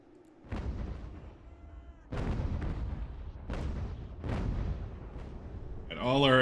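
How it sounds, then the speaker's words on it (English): Artillery firing in the Ultimate General: American Revolution game, a series of four or five booming cannon blasts in quick succession that roll into a rumbling wash, ending with a brief tonal game effect. "And all our artillery going to fire at this 31 guys."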